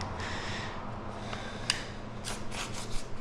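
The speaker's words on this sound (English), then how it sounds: "And then you take your knife, run it down like that, and you can go ahead and pop that off." A utility knife blade scoring the surface of ProCore vinyl plank flooring along a straight edge, giving soft, dry scraping and rasping strokes, faint and close, with a few brief sharper scratches toward the end.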